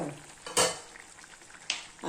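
A thick tomato and onion gravy for bitter gourd sizzles and bubbles in a pan, with two sharp scrapes of a spoon stirring it.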